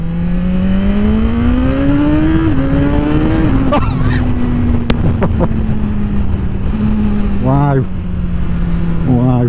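A 200 bhp Suzuki GSX-R1000R sport bike fitted with a quick shifter and auto blipper roars loudly up through the gears on a track, pitch climbing then dropping with quick shifts, and a voice exclaims over it.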